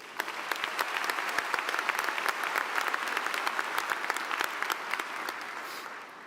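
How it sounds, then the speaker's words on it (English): Sustained applause from a graduation ceremony audience at Spain Park High School cheering the class of 2026, many hands clapping in a dense, even roar with sharper individual claps poking through, tapering slightly near the end. "let's give a round of applause for the class of 2026"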